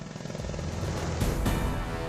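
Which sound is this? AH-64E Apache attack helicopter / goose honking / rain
AH-64E Apache attack helicopter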